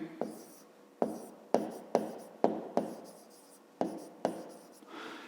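Pen or chalk strokes of a maths solution for a fifth-grade arithmetic exercise, eight or nine crisp taps and scratches in an uneven rhythm, close and clear with no talking.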